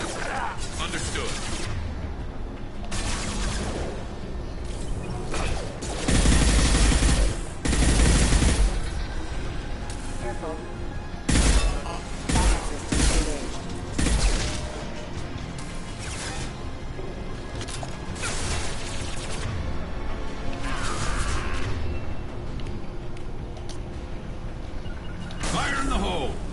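Combat in Mass Effect 2 Legendary Edition, with bursts of gunfire, impacts and crashes coming in waves, loud and close, mixed with brief voice callouts between the shooting.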